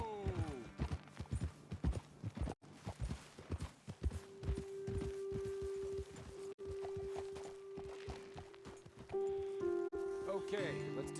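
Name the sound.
horses walking, from video game Red Dead Redemption 2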